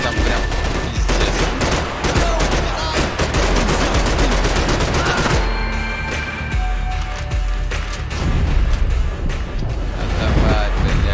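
Gunfire rattles through a session of the video game Max Payne 3, with loud rapid bursts and single shots that crowd the first half, then sparser shots and booms over game sounds as a player talks throughout.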